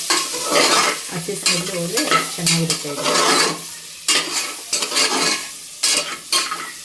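Goat leg pieces fry in a pan for leg soup, giving a loud, steady sizzle broken by the scrape and clatter of stirring, while someone talks over it.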